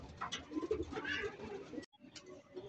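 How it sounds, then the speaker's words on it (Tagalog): Pigeons released in Lucena, Quezon give soft, low cooing calls that sit under light rustling and handling noise, then drop out briefly before faint sounds resume. "Pangatlong kalapate mga kaibon"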